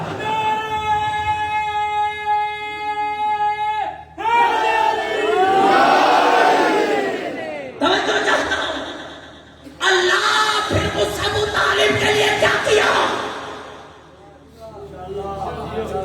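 Large gathering at a religious celebration crowd chanting slogans in loud surging bursts, rising and falling in waves with short pauses, along with a sustained melodic tone at the start.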